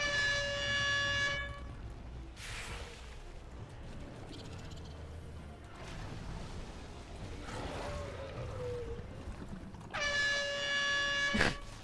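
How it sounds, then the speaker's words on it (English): An air horn alert blares twice in a World of Warcraft raid, a loud tonal blast at the start and again near the end, with quieter game effects and a faint voice between. "That air horn is too much."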